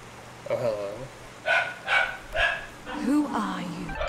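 Dogs in the video game Dust: An Elysian Tail give a quick run of four or five short, yappy barks at steady spacing, close and clear, after a brief higher whine at the start.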